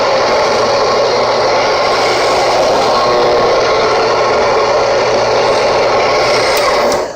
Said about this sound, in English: when you initiate the grinder, it'll grind down and then out into the spin. Not too loud actually.